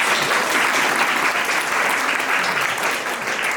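An audience at a theology convocation ceremony in Switzerland bursting into sustained applause, a dense, steady clapping from many hands close by for several seconds.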